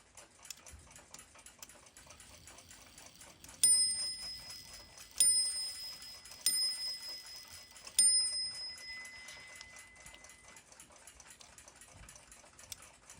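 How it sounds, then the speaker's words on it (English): An 1891 Waterbury repeater alarm clock: quiet mechanical ticking runs throughout while a small bell rings four times in short bursts, each ring fading away, over the steady clockwork. "Repeat mechanism functions."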